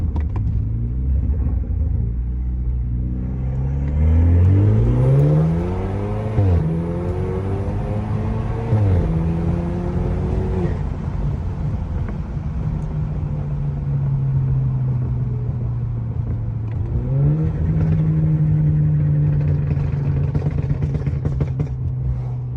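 A BMW N20 turbocharged four-cylinder car fitted with an upgraded turbo inlet pulls hard through the gears, its engine note rising and dropping with several shifts, loud and close with a steady rumble and no talk.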